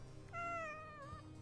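A pet cat named Meow Meow gives a single clear, drawn-out meow that rises then wavers, close and fairly quiet, in a home with no talking.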